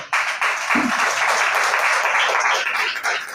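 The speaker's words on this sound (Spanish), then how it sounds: "Yo creo que él se merece un aplauso en esta hora." A church congregation applauds steadily, dense clapping that holds at an even level throughout.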